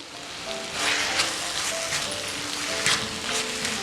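Onion, tomato and grated coconut frying in a pan, giving a continuous rain-like sizzle with light crackles, steady and fairly loud, with no talking.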